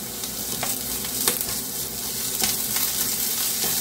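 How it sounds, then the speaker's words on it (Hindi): Chopped ginger frying with onions and green chillies in a pan: a steady, loud oil sizzle with occasional stirring scrapes, close and continuous, with no voices. "अदरक को भी हम थोड़ा सा भून लेंगे जिससे कि इसका कच्चापन निकल जाए"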